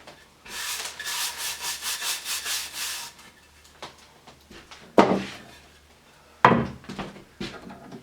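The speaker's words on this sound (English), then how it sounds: "and then scrub off the dirt" Dirt being scrubbed off wood while building a soil sifter: a few seconds of rhythmic rubbing strokes, then sharp knocks and clatter of the wood being handled, close and fairly loud.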